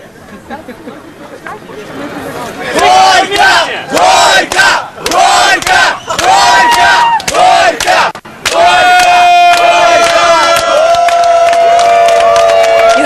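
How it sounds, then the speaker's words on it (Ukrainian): A crowd of some three thousand cyclists at a bike parade in Kyiv shouts loud, rhythmic chants at a wedding couple, then breaks into a long sustained roar with cheering and chatter. "Гірко їм кричали велосипедисти всім тритисячним натовпом."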